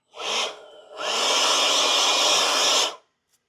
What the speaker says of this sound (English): we're gonna take our little handheld blower and blow everything off.